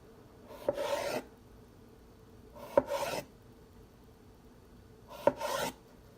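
Knife slicing through food on a cutting board in a home kitchen, three separate rasping cuts, each about half a second long with a sharp onset, close and clear against quiet background.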